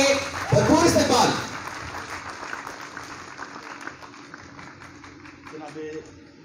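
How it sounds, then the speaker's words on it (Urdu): Audience at a poetry gathering claps to welcome a poet, a burst of applause that swells early then thins and fades beneath a voice talking over it. "زوردار تالیوں میں بھرپور استقبال"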